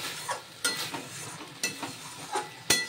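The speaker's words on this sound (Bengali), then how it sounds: "ততক্ষণ পর্যন্ত আমি মশলা কষাতে থাকব।" Spice paste for Bengali doi potol is stir-fried in a pan, with a soft background sizzle broken by several quick scraping stirs at irregular intervals.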